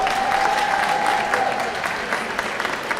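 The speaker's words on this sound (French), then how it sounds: "Je vous demande d'accueillir sous un tonnerre d'applaudissements Keegan Connor Tracy" Audience applause greeting an actor at a fan convention conference in Montpellier, loud and sustained clapping with a steady crowd roar throughout, continuous and unbroken.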